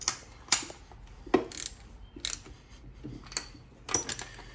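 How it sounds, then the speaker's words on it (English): Socket wrench ratcheting in short bursts while bolts are snugged up on a boat, a handful of sharp clicking spells spaced across the moment at close range, with faint low hum underneath. "I'm just gonna go ahead and tighten all these up"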